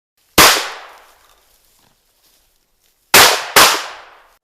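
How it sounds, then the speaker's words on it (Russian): Three loud, sharp hunting rifle shots outdoors, killing a jackal: one, a long pause, then two in quick succession, each followed by a fading echo. "Несколько выстрелов, и хищник убит."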